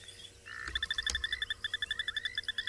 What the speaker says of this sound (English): It's a broad-banded grass frog.